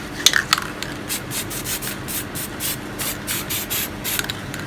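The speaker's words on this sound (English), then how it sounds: "spray a bit around here," A spray paint can hisses in a run of short, rhythmic bursts after a couple of sharp clicks, close by and without speech, while painting spray-paint art.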